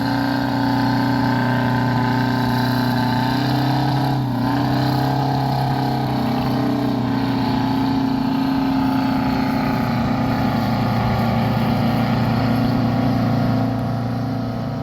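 A loud, heavy tractor engine at a tractor show runs steadily throughout, a deep constant drone with a slight dip partway through and no voices.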